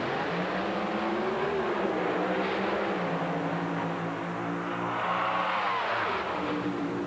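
Drag racing cars roar steadily and loudly through a launch in an NHRA final round at the 1995 Sears Craftsman Nationals, with engines holding a continuous heavy drone that shifts in pitch across the run, no voices over it.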